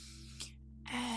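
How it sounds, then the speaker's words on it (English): A slow, deep inhale through the nose during a calm bedtime yoga stretch, a soft breathy rush that pauses briefly and then swells louder and close to the microphone. "So big breath in"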